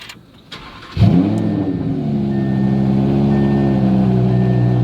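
A loud straight-piped supercar engine cranks and fires up after a brief pause, then settles into a deep, rumbling idle with a raw, unmuffled tone.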